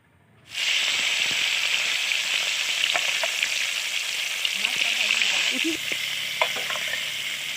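Rohu fish pieces fry in hot oil in a pan with a loud, steady sizzle that starts abruptly and holds, with small clinks and stirring sounds near the end.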